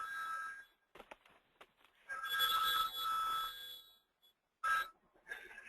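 A telephone rings faintly in bursts of electronic trilling with short pauses between them, heard alone in a quiet room.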